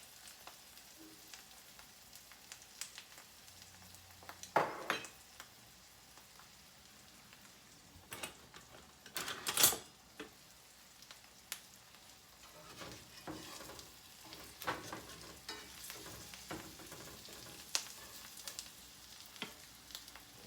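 A couple of eggs frying in a breakfast pan, a quiet continuous sizzle with scattered crackles and a few louder pops and utensil clatters spread through the stretch.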